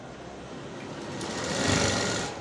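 Sewing machine stitching a blouse side seam in one continuous, close, steady whir that swells slightly toward the end.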